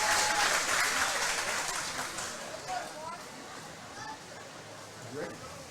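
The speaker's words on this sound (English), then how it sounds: "Big round of applause for our first bout of the evening." Crowd applause for the opening bout of an amateur boxing event, a dense clapping wash that is loud at first and then thins and fades, with voices talking over it throughout.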